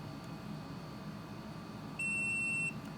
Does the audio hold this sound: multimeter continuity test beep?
yes